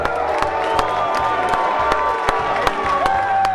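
Fans at a stock car race boo and cheer as driver Ted Christopher of Plainville, car number 13, is announced, a loud sustained crowd roar with scattered whoops and a few sharp claps.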